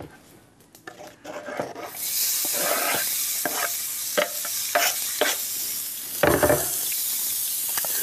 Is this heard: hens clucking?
no